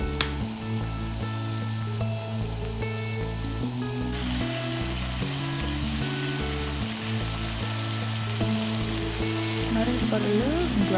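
Contents of a cooking pan bubbling up and sizzling after several minutes on the heat, a steady, dense frying hiss that runs throughout with no break, over a constant tonal background.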